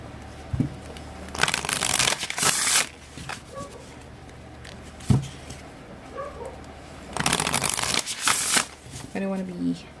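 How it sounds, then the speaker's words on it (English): Oracle cards from a new Celtic Spirit deck are riffle shuffled in several crisp fluttering bursts close by, separated by quieter handling and light taps, with occasional speech. "so we're going to shuffle the cards"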